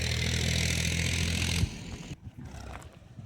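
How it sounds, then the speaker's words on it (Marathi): A tractor heading toward Linga village beside a railway-line construction site on the Wardha–Nanded route, its engine loud and steady up close for over a second, then cutting off sharply to leave fainter, uneven rumbling and outdoor noise. "बघा हे ट्रॅक्टर जात आहे, ते लिंगा गावाकडे जात आहे"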